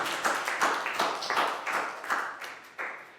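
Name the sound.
applause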